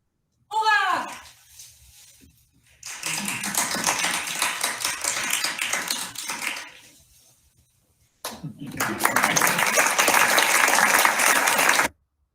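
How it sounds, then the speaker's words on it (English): A small audience claps at the close of a spoken-and-electronic music performance: after a brief vocal burst and a gap, two spells of dense applause arrive, the second louder and ending abruptly. "So there I end with a small applause after all the being in control."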